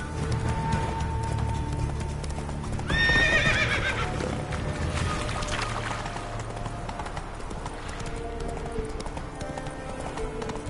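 Roach, Geralt's horse in The Witcher 3 game, gallops with rhythmic clip-clop hoofbeats and lets out a loud whinny early on, set against ambient game sound.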